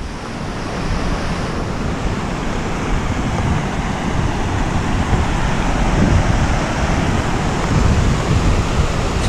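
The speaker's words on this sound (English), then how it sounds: "Look at this waterfall." A rain-swollen waterfall tumbles off a rocky edge in the Scottish Highlands near Ben Hope, a loud, dense and unbroken rushing roar heard close by without talk.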